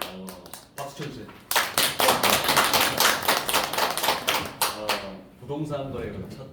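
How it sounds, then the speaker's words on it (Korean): Audience clapping at a school innovation presentation contest swells into a dense burst of many hands for several seconds, with a voice speaking before and after the applause. "박수 쳐주세요."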